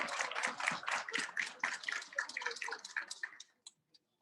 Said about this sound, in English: For your grand applause,